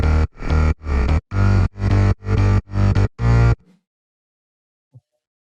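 Layered synth basses from an FL Studio remake playing together: seven loud, thick, evenly spaced sustained notes in a steady pulse, alone, then cutting to near silence with one faint blip near the end.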